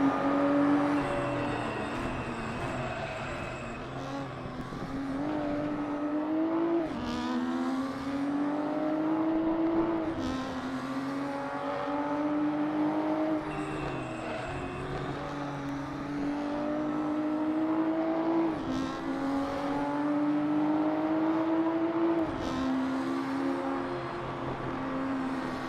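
Race cars lapping Sepang circuit during practice, engines droning and rising and falling in pitch as they rev and shift, a steady loud mechanical whine with passing cars and no voices.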